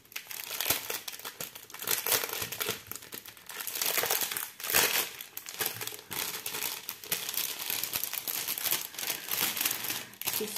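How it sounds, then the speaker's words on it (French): Plastic bags of diamond painting drills being opened, giving continuous close crinkling and rustling of thin plastic for about ten seconds, with no voices. "Les diamants se présentent comme ceci, on va les ouvrir"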